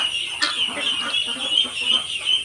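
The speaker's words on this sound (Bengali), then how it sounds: "ছোট হাঁসের বাচ্চা এই হাঁসের বাচ্চাগুলো" Chirping and peeping from a group of young ducklings on a small duck farm, repeated short calls overlapping close by against a faint steady background hiss.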